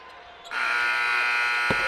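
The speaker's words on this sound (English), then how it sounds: "Hallams nearly beats the buzzer, and we are halfway done here in Bowling Green." A halftime buzzer sounds at a college basketball game between South Carolina State and Western Kentucky in Bowling Green, a loud sustained electronic blare over faint arena noise, with a thump near the end.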